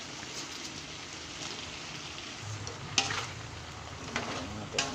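Chayote sliced into a frying pan of vegetables sizzles steadily while a utensil stirs and scrapes, with a few sharper clinks near the end; no talking.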